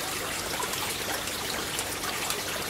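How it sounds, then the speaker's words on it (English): Water trickles and drips steadily from leaking tanks at a fish farm, a constant hissing wash with no pauses and no talking. "Leaking tanks."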